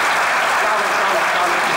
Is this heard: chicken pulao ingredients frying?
no